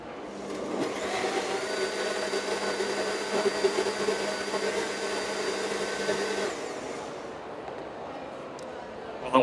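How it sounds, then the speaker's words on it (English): A high-powered blender whirs steadily for about six seconds blending seeds with water, then cuts off, with people talking over and after it. "With a super blender, right?"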